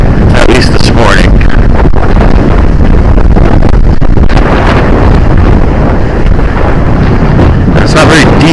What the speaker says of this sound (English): it's gonna be a little bit too windy for me to kayak it today